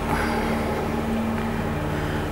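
A car engine droning steadily as a vehicle circles outside a window, a continuous low hum with no clear passes or peaks, heard alone from indoors.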